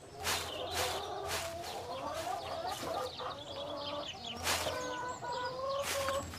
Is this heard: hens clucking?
yes